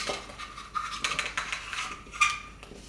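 Rinsed pork ribs are set down onto a plate in a kitchen, giving a few light clinks and clatters of ceramic over about three seconds, fairly close and quiet with no talking.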